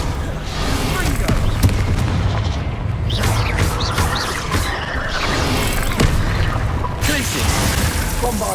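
Explosive spells burst in rapid succession during a Hogwarts Legacy battle, a dense, loud barrage of booms and shattering blasts with voices calling out over the continuous combat din.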